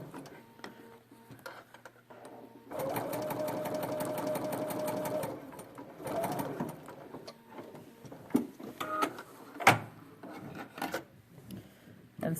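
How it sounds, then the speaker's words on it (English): A Bernina sewing machine with a wide gathering foot top stitching fabric, running in a steady loud whirring burst for a few seconds, then short quieter stitching spurts and clicks, with no talk. "And I'm top stitching"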